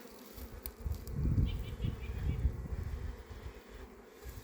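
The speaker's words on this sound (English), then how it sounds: "you're in front of the hive where the bees are coming in and out." Italian honey bees swarm in and out at the hive entrance, a dense, steady buzzing drone that swells slightly in the middle and stays close and continuous throughout.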